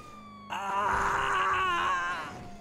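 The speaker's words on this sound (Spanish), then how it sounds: "eso por la puta sirena" A police car siren wails in a video game, one sustained rising and falling tone that sounds close and loud for about two seconds, with a faint voice underneath.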